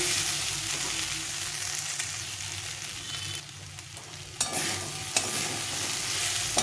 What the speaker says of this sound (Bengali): সব দিয়ে আমি কষিয়ে নিয়েছি এটা কষা কষা হয়ে গেছে